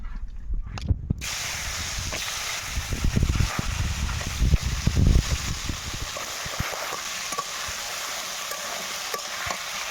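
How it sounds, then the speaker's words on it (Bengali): Potato pieces being fried in a pan for a fish and potato curry give a steady loud sizzle, with occasional clattering stirs mixed in and no talking. "তো প্রথমে আমি আলুগুলো একটু ভালো করে লাল লাল করে ভেজে নেব।"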